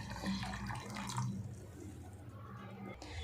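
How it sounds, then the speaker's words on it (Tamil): Water pours steadily into a metal pressure cooker over chickpeas for a few seconds, a soft gushing splash that fades, with faint kitchen noise around it. "கடலை வேகிறதுக்கு தேவையான அளவுக்கு தண்ணி."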